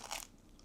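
A single crisp bite into a crunchy luxury bakery pastry from a Saint-Barth boulangerie, a short close crunch at the start fading into quiet.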